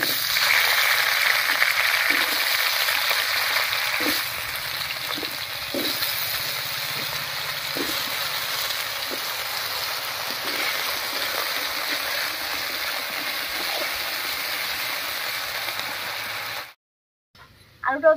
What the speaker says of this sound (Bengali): মাছ ভাজার এই তেলের মধ্যে কেটে রাখা আলুও ভেজে নেব